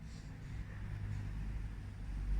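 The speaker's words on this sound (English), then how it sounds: "When the cars are passing" Cars pass on a nearby main road as a low, continuous rumble of traffic noise that builds slightly toward the end, steady and droning without distinct individual engines.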